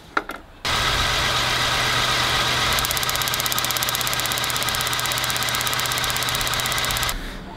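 An engine with one spark plug not firing idles loud and close with a steady, slightly uneven buzzing drone, starting abruptly after a few clicks and cutting off near the end.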